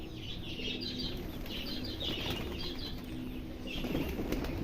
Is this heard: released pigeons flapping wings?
yes